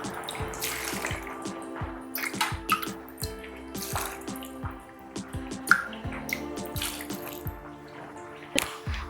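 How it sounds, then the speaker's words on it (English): Water splashes and trickles in uneven bursts into a cooking pot of ash gourd soup, with clinks and drips against the metal vessel, close by and fairly loud. "So adding water,"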